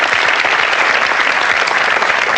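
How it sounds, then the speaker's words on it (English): A studio audience at a 1992 MTV forum with Bill Clinton applauds in a dense, steady wash of clapping that holds at the same loud level for the whole stretch, with no voices over it. "Yeah, you could clap for yourself."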